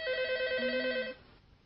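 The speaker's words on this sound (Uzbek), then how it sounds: "Telefonni eling-a." A telephone rings with a loud, close electronic warbling tone in a repeating pulsed pattern, a lower steady tone joining midway before the ringing cuts off abruptly, leaving faint room noise.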